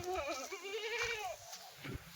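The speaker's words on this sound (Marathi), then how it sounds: "आता दुधाच्या पूर्ण शेळ्या बांधलेल्या आहेत" Kathiyawadi milk goats tied up in a shed give a wavering, close bleat lasting about a second, with faint rustling and thuds of the herd around.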